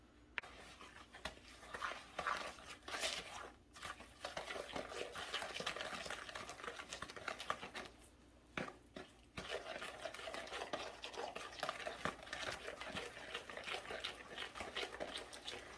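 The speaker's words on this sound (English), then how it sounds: "we're gonna mix the butter into the sugars" Browned butter is stirred into sugars in a bowl, a steady close, quiet scraping and swishing that runs continuously with brief pauses, and no talking.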